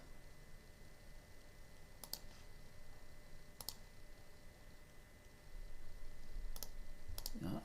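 Sharp, faint computer mouse clicks in design software come singly and in quick pairs at irregular intervals over a quiet room hum, with someone speaking softly in between.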